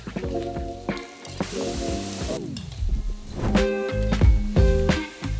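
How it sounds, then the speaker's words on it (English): Pork sears loudly in hot pans in a homestay kitchen in Đồng Văn, Vietnam, with metal clanks and scraping of utensils breaking through the steady frying hiss. "Clatter of pans, the scent of seared pork."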